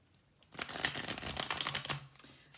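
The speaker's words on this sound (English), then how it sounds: "we're going to have another shuffle apparently" Tarot cards being shuffled by hand for a reading, a close, crisp run of rapid riffling flutters and soft slaps lasting about two seconds after a quiet start.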